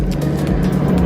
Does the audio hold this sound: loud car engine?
yes